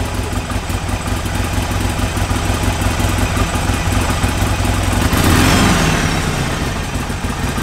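An older Harley-Davidson motorcycle engine runs steadily at idle, a continuous loud low rumble throughout with a brief swell in the middle, and no talking.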